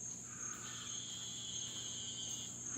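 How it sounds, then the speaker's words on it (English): Coqui frogs calling at night, a dense, steady chorus of high-pitched chirps that fills the air at low volume, with no voices. "They sound like coqui frogs."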